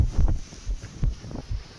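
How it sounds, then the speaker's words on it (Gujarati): Strong wind on Girnar hill in Junagadh buffets the microphone in low, rumbling gusts that come in uneven bursts, with no voices. "ખૂબ જ પવન છે"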